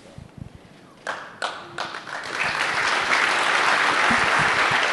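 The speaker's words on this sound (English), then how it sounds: "Okay, yeah, don't clap, don't clap." Conference audience at a DEF CON hacking talk bursts into applause: a few scattered claps first, then building into sustained, dense clapping from a large crowd.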